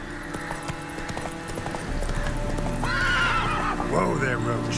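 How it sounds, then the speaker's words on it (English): Roach the horse in The Witcher 3 neighs twice in quick whinnies over clip-clopping hooves and a game's steady hum, with a person talking over the sounds. "Whoa there, Roach"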